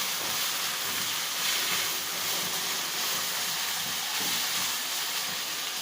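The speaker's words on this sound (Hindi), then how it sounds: "बहुत ज़बरदस्त ये फ्राई हो रहे हैं" Chicken, peas and carrots fry in a pan, giving a steady, even, close sizzling hiss that runs unbroken with no talk over it.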